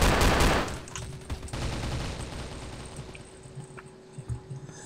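In the zombie mode of the shooter game Crossfire, a loud burst of automatic gunfire opens the moment, then quieter shots and battle noise keep rattling on at a lower level.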